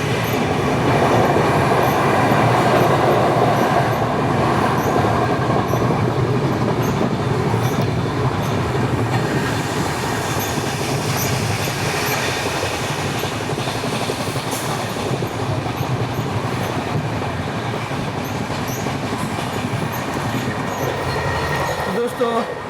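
The Amritsar Nanded Sachkhand Express rolls along the rails with a loud, sustained rumble, rhythmic clatter of wheels over joints and occasional metallic squeals, heard from on board throughout.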